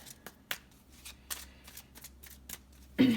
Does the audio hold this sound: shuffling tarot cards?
yes